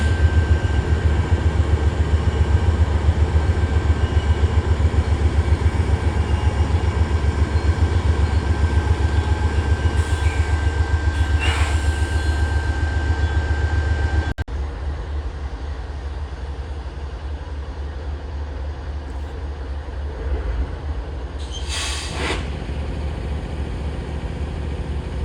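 Train crossing a high trestle above a city, heard as a loud, steady low rumble and drone of rolling cars that drops to a softer rumble partway through, with a few brief squeals or whooshes over it and no talking.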